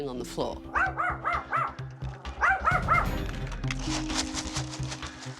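Several dogs bark in quick repeated bursts, loud and close, with people talking over and between the barks.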